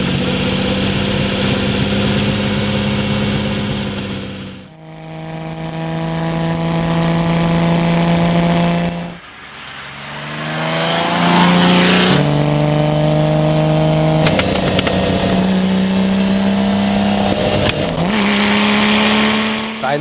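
A Lamborghini Miura's engine revs up loud and close, its steady harmonic drone climbing in pitch through several gear pulls, winding toward 7,000 RPM with brief dips between shifts.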